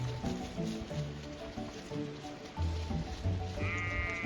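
Ewes in a Suffolk and Texel flock of about 250 bleat loudly and close by in short, repeated calls. Fainter bleats sound in the background.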